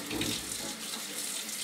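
A tap pours a steady stream of running water, soft and close, with no other sounds.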